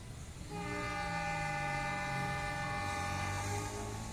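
A loud, steady departure horn from a long-hood locomotive on the Serayu passenger train blasts for several seconds over rumbling engine noise, close and sustained before easing off.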